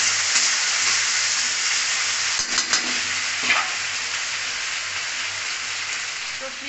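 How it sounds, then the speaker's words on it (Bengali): Onions and potatoes fry in a pan for a fish curry, giving a steady, close hiss of sizzling oil throughout with a few soft clinks of stirring near the middle. "পেঁয়াজ আর আলুটা ভেজে নিচ্ছি"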